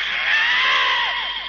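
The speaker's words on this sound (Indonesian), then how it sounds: "Baru saja aku mendengar ada suara orang berteriak di sana." A person screams in the distance in a radio drama, one sustained high cry lasting over a second that trails off at the end.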